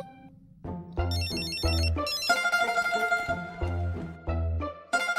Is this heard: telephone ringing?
yes